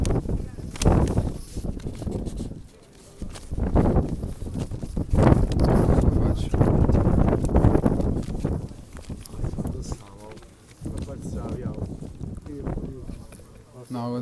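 Wind buffets the microphone at an outdoor eight-a-side amateur football league match, with loud, gusting low rumbles coming in repeated bursts over muffled voices.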